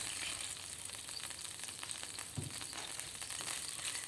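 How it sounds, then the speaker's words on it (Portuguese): Gluten-free rabanada bread fries in a hot, thick pan with a continuous soft sizzle and crackle, one brief low knock midway. "a gente vai fazer aqui igual um pão na chapa,"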